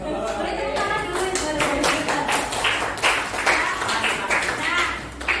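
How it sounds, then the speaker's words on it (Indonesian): A group of people clapping together during an academic coaching and supervision session for teachers, a steady patter of many hands filling the room with voices mixed in beneath. "Ini untuk boleh tepuk tangan dulu"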